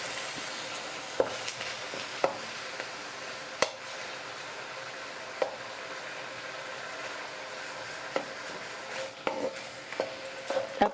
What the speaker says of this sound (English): So I can keep frying.